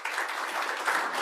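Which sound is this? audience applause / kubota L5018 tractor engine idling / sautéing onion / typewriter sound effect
audience applause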